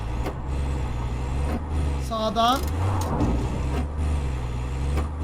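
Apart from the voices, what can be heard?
car being driven in video game Far Cry 5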